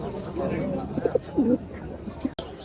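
Pigeons coo softly in short warbling phrases, close by at a pigeon market, mixed with a background murmur of voices and a brief click near the end.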